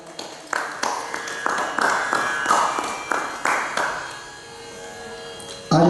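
A school audience at a Basant Panchami celebration claps in a series of strong, uneven bursts after Saraswati is garlanded. A sustained tone rings beneath the clapping before it fades to near quiet.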